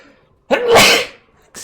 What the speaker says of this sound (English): Excuse me, big sneeze.